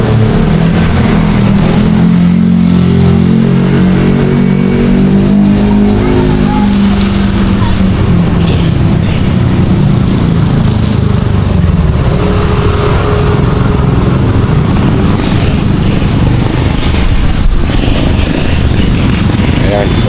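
Motorcycle engine running loud and steady at close range for the whole stretch, with a deep low rumble that swells and eases as it revs, voices faintly mixed underneath.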